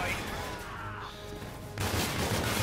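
Gunfire from the DMC8 Epic Epitaph weapon in the video game Infinite Warfare, a dense burst of rapid shots with crashing impacts that cuts off, then resumes loudly after a brief lull.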